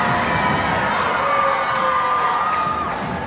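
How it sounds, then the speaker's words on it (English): A gym crowd at Chehalis' first unified basketball game cheers for both teams, with loud, steady roaring, shouts and whoops from many voices that continue throughout. "the crowd was cheering for both teams and all players"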